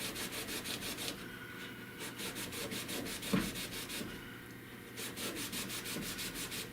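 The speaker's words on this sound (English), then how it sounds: "I gotta come in one at a time and sand in between these." Hand sanding of a car dash pillar panel during auto body restoration, a steady rhythmic back-and-forth scraping of abrasive strokes, close and fairly quiet, with a brief knock midway and no talking.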